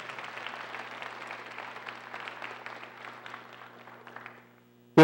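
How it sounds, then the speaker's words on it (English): An audience at a university Martin Luther King commemorative lecture applauds two professors, a steady, moderate patter of clapping that gradually fades out over several seconds. "Let's give them both a cheer."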